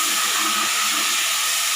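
Mustard seeds crackle and sizzle in hot oil while masala is prepared for dhal rice, a steady, loud, dense hiss with no talk over it.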